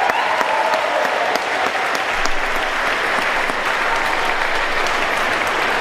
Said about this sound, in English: Let's give our special events and communications department a round of applause for putting this together